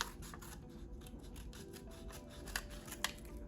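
Scissors cut through a homemade phone case with quick, light repeated snips and rubbing, quiet and close, capped by a couple of sharper clicks toward the end.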